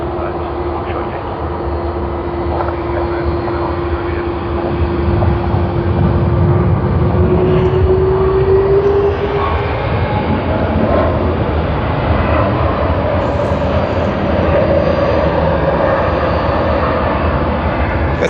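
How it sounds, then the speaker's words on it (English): A Qantas airliner on flight QF24 from Bangkok arrives at Sydney Airport, its jet engines roaring steadily at a distance with a long whine that fades partway through, and someone talks over it at times. "That's QF24 that just arrived from Bangkok."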